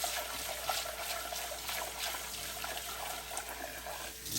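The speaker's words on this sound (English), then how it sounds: "We're just going to wash it till it kind of rinses clear." Rice rinsed by hand in cold water in a bowl, a steady close wash of sloshing and trickling water that runs continuously without a break.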